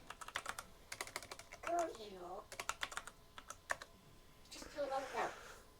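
Computer keyboard keys click in quick bursts, including a press of the enter key, with someone speaking between the clicks.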